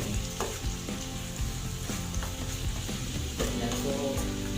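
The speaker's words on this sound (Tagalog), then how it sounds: "So, i-brownish lang natin konti yung ating onion." Onion browning in a pan for a broccoli dish, sizzling steadily under the repeated scrape and knock of stirring, close and fairly loud with no voices.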